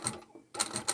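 Sewing machine back-stitching through a leather or vinyl pouch: two bursts of rapid mechanical stitching separated by a short pause as the work is reversed, close and fairly loud.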